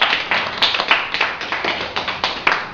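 A church congregation at a Sunday morning service applauds together, a close, dense burst of clapping that holds steady for a few seconds.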